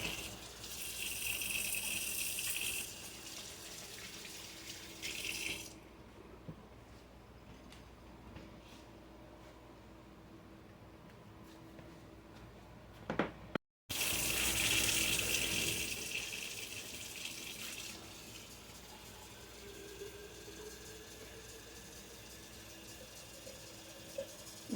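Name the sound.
washing hands under running tap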